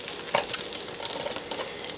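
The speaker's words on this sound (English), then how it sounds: "I didn't think it was gonna sizzle that much." A hot topping poured over food sizzles and crackles up close, a bright fizzing with a few sharper pops, heard alone.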